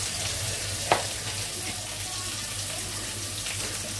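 Ginger paste fries in a pan with coriander, cumin, turmeric and salt, giving a constant broad sizzle with one sharp utensil knock near the start.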